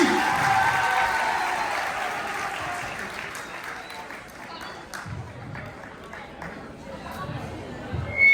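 At a secondary school end-of-year closing ceremony, an audience gives loud applause for students reading a farewell letter. It starts strong, fades gradually, and ends with murmuring and a few scattered sounds.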